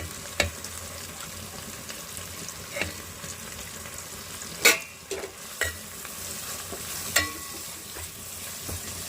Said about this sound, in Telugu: కొబ్బరి తురుముతో పాటు అల్లం చిన్నపాయ కొబ్బరి పేస్ట్ పలావులోకి వేసుకొని మొత్తం తిప్పేస్తాను